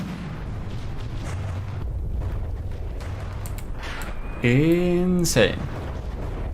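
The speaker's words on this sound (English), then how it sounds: "Shooting some shorter Hesh frag explosives." Shells and frag explosives firing and bursting in the naval battle game From the Depths, a rumbling spread of booms under a voice, with a brief sharp tonal blast near the end.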